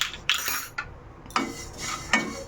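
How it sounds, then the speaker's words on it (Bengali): Large mustard seeds dry-roasted in a hot pan, with a handful of sharp metallic spoon scrapes and taps against the pan, close and separated by short quiet gaps. "এটা কিন্তু এবার আমি ভেজে নেব শুকনো খোলায়"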